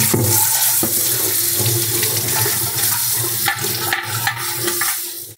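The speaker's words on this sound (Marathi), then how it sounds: "माठ आपण हा सगळीकडून व्यवस्थित ओला करून घेऊया।" Water pours steadily and loudly over an old clay water pot to soak it, a continuous splashing gush with slight changes in flow throughout.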